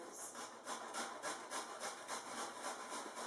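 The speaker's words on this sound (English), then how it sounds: "So now go ahead and grate the ginger." Rhythmic rasping strokes of ginger rubbed against a grater for spiced pork, about a dozen quick, even back-and-forth scrapes, close and steady, without speech.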